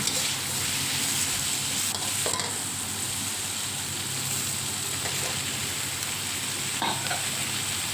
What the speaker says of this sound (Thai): เราก็ ใส่เห็ดฟางตามลงไปเลยนะคะ